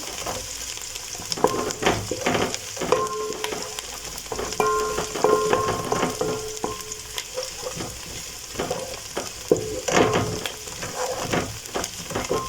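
A rice mixture with mixed spices sizzles and fries in a pan, a steady close crackle broken by scraping stirs of a utensil against the pan.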